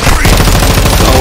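Rapid automatic gunfire in the video game Modern Warfare 2, a dense, very loud burst of fast repeating shots filling the short moment.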